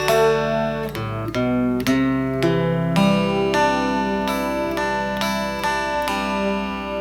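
Electric guitar solo from a song, played as a series of single plucked notes with clear attacks, each left ringing into the next at a moderate pace, close and steady with no talking.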